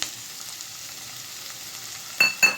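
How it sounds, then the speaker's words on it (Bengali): Eight to ten cashews and green chillies hit a pan of lightly frying paste, giving a steady soft sizzle that ends with two sharp stirring clatters close by, with no talking. "এটাকে দিয়ে একটু হালকা ভেজে নিতে হবে"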